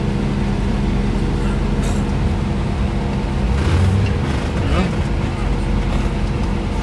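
A car engine runs steadily at close range, a dense, continuous low rumble holding an even level throughout, with muffled voices and a few brief shifts in tone partway through.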